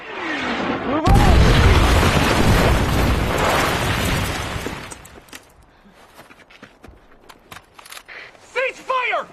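Heavy artillery fire in a WWII battle on Iwo Jima: a sudden loud blast followed by several seconds of dense, roaring explosions, then scattered distant pops and bursts as shouting voices rise over the fading barrage.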